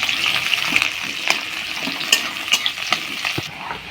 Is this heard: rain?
no